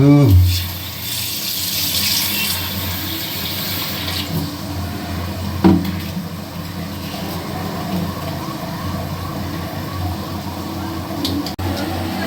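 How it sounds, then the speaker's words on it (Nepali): Tap water runs into a kitchen vessel as rice is washed, opening with a loud gush that settles into a steady flow with brief splashes and clinks. "अब मैले के गर्छु, यो चामल पखाल्छु।"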